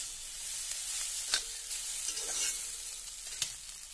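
Brinjal pieces cooking in a covered pan over a low flame give a soft, steady sizzle throughout, with a couple of brief louder clinks or stirs standing out.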